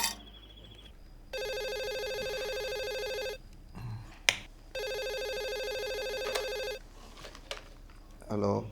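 A telephone rings in two long electronic bursts separated by a short pause, with a sharp click between them and faint room sounds around.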